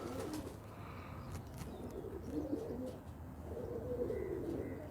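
Breeder female high-flyer pigeons coo in a loft, soft repeated low coos under steady background noise with a few light chirps, fairly close.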